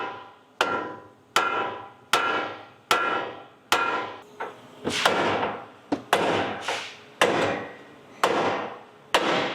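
A hammer strikes steel again and again to knock a Toyota Tacoma's upper control arm loose from the spindle, about a dozen sharp metallic blows at a steady pace, each ringing out and decaying, loud and close.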